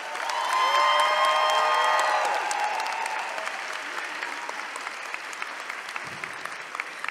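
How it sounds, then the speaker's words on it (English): A large crowd at a university public health commencement ceremony bursts into sustained applause with cheering and whoops, loud and dense at first, then easing into a thinner, steady patter of clapping. "I'd like to give a huge round of applause to the professors, faculty, staff, and mentors"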